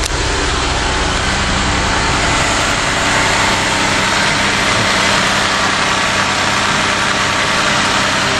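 A demolition derby car engine idles loudly and steadily up close, a constant rough rumble with mechanical vibration and no pauses.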